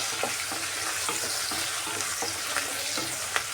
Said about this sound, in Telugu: కొత్తిమీర వేసుకున్నామండి. బాగా ఒక 2 నిమిషాలు పచ్చి వాసన పోయే వరకు ఫ్రై చేసుకుని